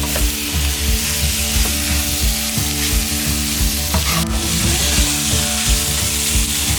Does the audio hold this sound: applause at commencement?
no